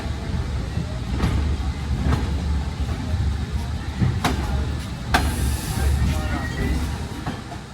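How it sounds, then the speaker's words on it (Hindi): Express train pulls into Beas Junction railway station in Punjab, with a steady low rumble and periodic sharp wheel clacks over the rails, loud and close, carrying on without pause for several seconds. "अब ट्रेन का अराइवल हो रहा है ब्यास जंक्शन पर"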